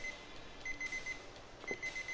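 An alarm clock in the video game GTA IV rings with repeated short beeps in steady groups, fairly quiet against a soft background hiss, with no voices.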